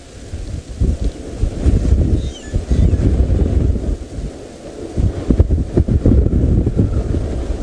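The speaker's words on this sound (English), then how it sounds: "The reason for that is because of this wind." Strong wind buffets an open safari vehicle on a sunset game drive, roaring steadily as a loud low rumble with gusty surges throughout, with no voices.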